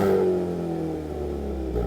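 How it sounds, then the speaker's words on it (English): A turbocharged 2-liter four-cylinder in a Hyundai Kona N revs loudly and close, a steady throaty drone that eases slightly, then swells again near the end, with no talking. "The N's four-cylinder is a turbocharged 2-liter with 276 horsepower"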